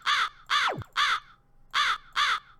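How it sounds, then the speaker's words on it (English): A crow caws five times in a crisp, evenly spaced series of harsh calls with a short gap before the last two, clear and close with no other sound, as in a sound effect sample. "So it's that sound file, the crow."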